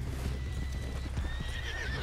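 A horse in the video game Red Dead Online gallops with steady clip-clop hoofbeats and lets out a loud, close neigh and whinny, over a low rumbling background.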